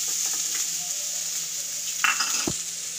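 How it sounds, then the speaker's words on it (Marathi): Chopped onion frying in melted butter in a pan: a steady, even sizzle runs the whole way through, with a brief scrape of stirring and a clink from a spoon near the end. "ह्याला आता फ्राय करून घेणार आहे बटरात"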